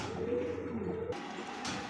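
A Lahori pigeon gives a low, soft coo close by for about a second, followed by quiet background noise.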